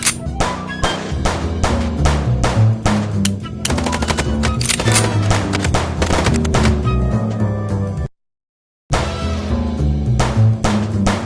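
Rapid bursts of gunfire from the noir video game Chicken Police crack loud and close in dense volleys, break off briefly for a moment of silence, then resume.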